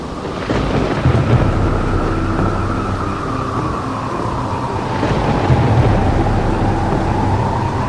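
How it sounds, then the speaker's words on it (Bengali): Kalbaishakhi thunderstorm with heavy rain in an animated ghost cartoon, a steady loud wash of downpour and wind with deep rolling thunder rumbling throughout and swelling again near the end, no voices. "বাইরে তুমুল ঝড় বৃষ্টি হচ্ছে কালবৈশাখীর ঝড়ের সাথে মুহুর মুহুর বৃষ্টিতে ভেসে যাচ্ছে চারিদিক"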